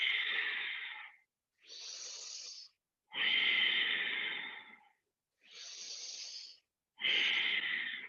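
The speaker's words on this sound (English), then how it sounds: "3 more deep breaths" Slow, deep breaths during a yoga pose, close and clear: five long sounds alternating inhale and exhale, each lasting about a second to a second and a half, with short silences between and no talk.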